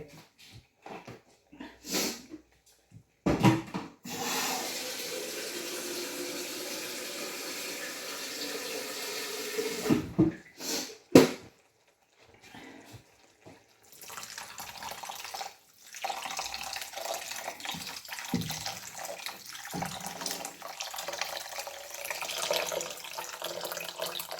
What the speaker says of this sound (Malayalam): വെള്ളം ഒഴിക്കണ്ടേ